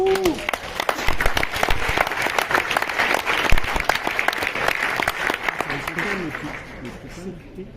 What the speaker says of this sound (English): Please, a big applause.